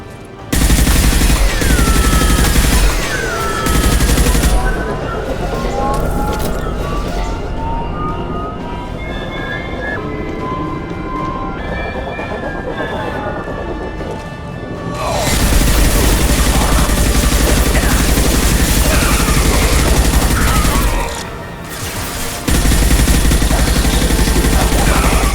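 Sustained gunfire in the final battle of Mass Effect 2 Legendary Edition, as weapons are fired at injection tubes, a dense, loud barrage with alarm-like tones and game effects that briefly eases before resuming.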